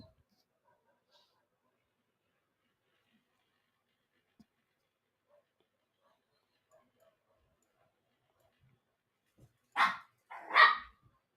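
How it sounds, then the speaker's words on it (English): Dogs barking at home, two sharp barks close together near the end after long near-silence. "our dogs are going crazy"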